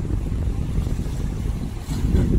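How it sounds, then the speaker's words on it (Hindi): Night wind and sea waves along the Jeddah Corniche, a steady broad rush of gusting air and surf with wind buffeting the microphone, close and continuous throughout, with no voices. "बड़ी बेहतरीन हवा चल रही है, लहरें आ रही हैं बड़ी बेहतरीन"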